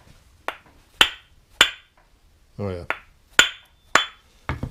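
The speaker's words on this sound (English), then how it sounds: "I'll get a rubber, just a dead blow hammer," A rubber dead blow hammer strikes a Farmall Super M distributor shaft with sharp, evenly spaced blows, about seven close knocks, and a brief spoken phrase falls between them.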